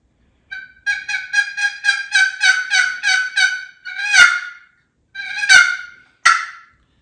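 A handmade turkey call is played, giving a rapid run of about a dozen yelps followed by a few louder, sharper cutts and clucks, close and clear with no talking.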